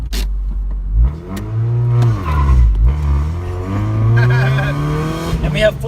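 A Mazda Miata project car accelerates hard, its engine note climbing steadily and dipping with each shift before rising again, loud and close throughout.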